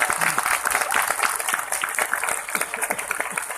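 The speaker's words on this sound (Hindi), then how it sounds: "थोड़ी कम पड़ रही है ताली।" Audience applause at a Sahaja Yoga meditation program in Kolkata, a dense, steady crowd clapping that holds loud and continuous throughout with no pauses.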